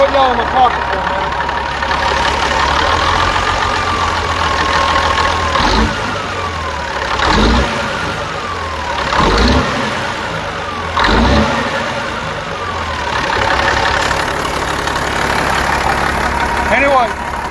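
The Caterpillar diesel in a Peterbilt 359 truck, with a new number 3 fuel nozzle, idles loud and close with a steady knocking rumble, swelling in several brief revs along the way.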